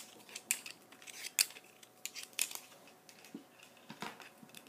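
Board game cards for Mansions of Madness are shuffled close up in a quiet room, giving a series of quick, crisp riffle-like bursts spread across the span.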